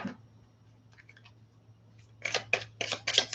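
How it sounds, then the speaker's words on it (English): Tarot cards being shuffled by hand, a few soft riffling bursts near the microphone after quiet light clicks, with no talking. "Oops, I don't want two cards, so I will keep shuffling."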